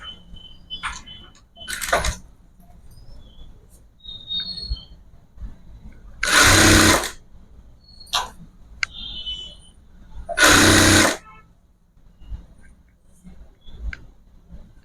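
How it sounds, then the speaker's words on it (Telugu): A sewing machine stitches around the edge of a dhoti dress piece for a baby boy in two short whirring bursts, with scattered clicks and handling noises in the quiet stretches between. "ఇట్లా రౌండ్ స్టిచ్ చేసేసుకోవాలి. మనము ఒక సైడ్ అయితే కుట్టుకుందాము."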